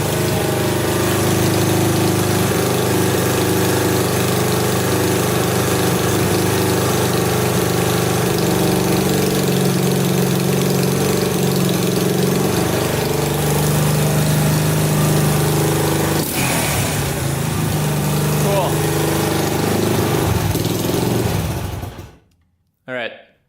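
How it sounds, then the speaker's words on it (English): A Honda 200X ATV engine idles steadily and a little high, loud and close in a cold indoor space, a continuous smooth drone that cuts off abruptly at the end. "sounds pretty good, idling perfectly, a little bit high, but it doesn't sputter or cut out at all"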